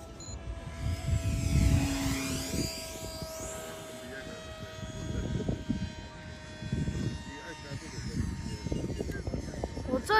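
RC model airplane, a DO 335 replica on a 6S battery, flying in to land, its motor whine sweeping in pitch as it passes, moderately distant, with people talking nearby.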